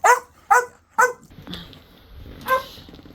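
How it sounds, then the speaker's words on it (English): A dog barks three times in a steady, evenly spaced rhythm at close range, then falls quiet amid faint room noise before one more sharp bark. "he's still gonna bark at me"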